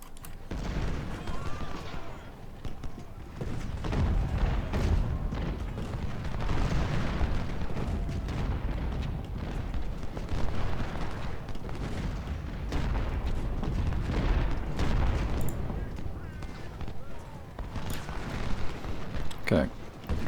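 Civil War artillery from a strategy battle game, with cannons booming in a dense, continuous rumble of distant explosions and musketry that runs throughout.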